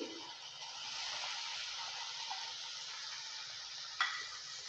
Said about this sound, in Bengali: ভেন্ডিটা দেওয়ার পর ভালো করে আবারও নেড়েচেড়ে নিচ্ছে